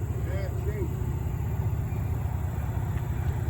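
Freight train locomotives labor up a hill hauling loaded rock cars, a steady low diesel drone with rumbling engine throb that holds constant throughout, heard from trackside.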